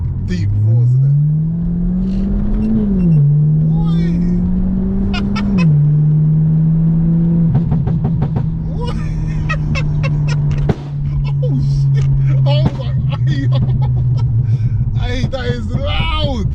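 An Audi A5's exhaust roars deeply and loudly throughout while driving, the engine pitch rising and dropping as it accelerates and shifts, with sharp pops and crackles near the end.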